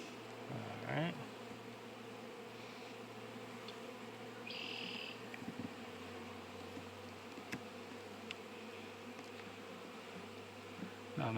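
Honey bees buzz around a hive frame from a colony with a drone-laying queen, a steady, low, continuous hum of many insects with a few brief clicks and knocks of handling.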